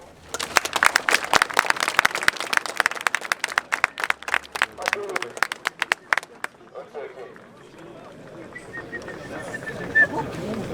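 An audience at a Fortnite FNCS 2025 event in Lyon bursts into loud, dense applause that thins out after about six seconds, followed by crowd murmur and scattered voices.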